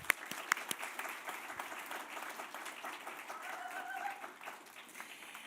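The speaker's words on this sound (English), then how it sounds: "A round of applause" Sustained audience applause fills a hall at a talk event on accessibility, a dense steady clapping with a few sharp claps standing out at the start, fading slightly toward the end.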